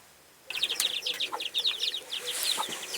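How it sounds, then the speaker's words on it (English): A hen clucks and calls repeatedly on a Kienyeji poultry farm, a brooding mother with chicks, close and clear in a quick, uneven series of bright clucks with a faint rustle underneath. "Here I have also another hen"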